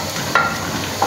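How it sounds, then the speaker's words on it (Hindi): Spice masala roasts in a pan over a low flame, giving a soft, steady sizzle with a couple of brief squeaky scrapes from stirring. "हल्की आंच पे इसकी बुनाई करनी है मसाले की।"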